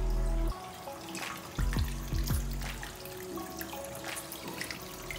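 A cascade filter in a turtle tank pours water steadily, a soft trickling and splashing with faint drips, heard up close and alone.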